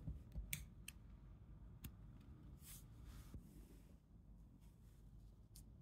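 Scissors snip through crochet yarn during a small keychain project, a few quick, faint, sharp clicks in a quiet room.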